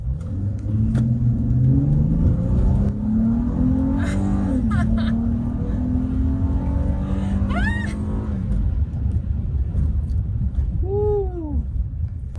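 A 2021 Dodge Challenger SXT's engine revs hard in sport mode and climbs through gears, the loud roar rising in pitch with each shift, close and continuous.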